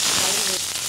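Green chillies frying in a tablespoon of hot oil in a kadai, giving a loud close crackling hiss that holds steady through a single brief burst.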